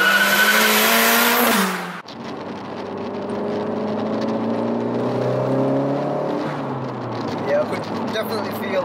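A Ford Focus RS MK1 tuned to about 385 bhp drones steadily while driving, heard from inside the car with a loud rev that drops sharply near the start and a rising engine note later. People talk over it.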